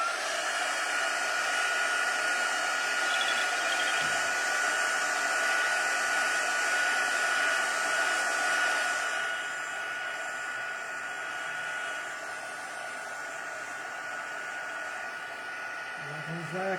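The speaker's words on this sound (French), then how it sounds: "j'y vais de nouveau avec mon pistolet à chauffant à la vitesse numéro 2, à la puissance numéro 2" A heat gun runs steadily at speed 2 and power 2 while texturing paint layers, its loud even blowing roar holding throughout and dropping slightly in level past the midpoint.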